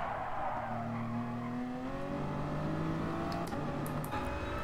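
A Toyota Supra races in GT Sport, its engine droning steadily with shifting pitch while tires squeal intermittently, the game audio alone and fairly quiet throughout.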